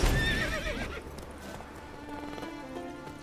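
A horse in The Witcher 3 whinnies loudly and close at the start, its neigh fading into a steady clip-clop of hooves that continues through the rest of the moment.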